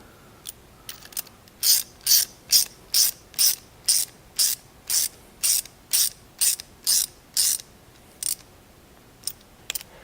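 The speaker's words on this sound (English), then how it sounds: "installing the drive side end cap using your 19 millimeter socket" Ratchet with a 19 mm socket tightening the drive side end cap on an ISO mountain bike hub: about a dozen crisp, evenly spaced ratchet clicks in a quick steady rhythm, close and clear, with a few softer ticks before and after.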